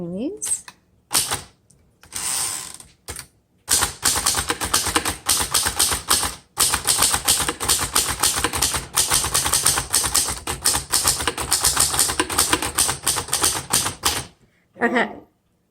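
A 1929 Underwood four-bank typewriter with a wood-grain finish is typed on in a steady stream of crisp mechanical key strikes and clacks, loud and close, with brief pauses and a final burst near the end.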